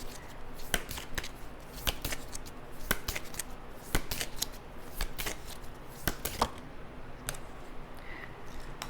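Tarot cards being shuffled and drawn during a reading, with a run of crisp, irregular flicks and slaps at close range against a low background hum, no voice.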